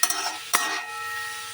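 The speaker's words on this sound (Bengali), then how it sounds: "বন্ধুরা এরপর বেশ কিছুক্ষণ আমি এটাকে এবার নাড়াতে থাকবো।" A snake gourd fry is stirred in a pan with a spoon, giving a few close scraping and clinking strokes over a soft steady sizzle, with no talking.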